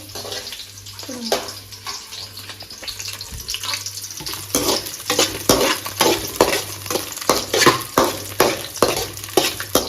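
Onions frying in a pan, with a steady sizzle broken by repeated scraping strokes of a spatula that grow more rhythmic and louder, close up with no talk.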